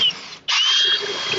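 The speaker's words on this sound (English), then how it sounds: "now that I have the upper arm back inside the lower, I've inserted the elbow so that I can continue drilling through" A power drill boring bolt holes for 5/16 bolts through the nested upper and lower arms of a manual dump truck tarp system: a close, loud whine stops briefly, then resumes at a high steady pitch.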